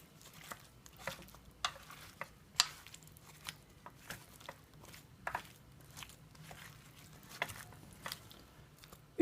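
Vegetables and oil for tchakchouka stirred in an electric multicooker, with soft, irregular scraping and crinkly knocks of the spoon, faint and close, with no talking.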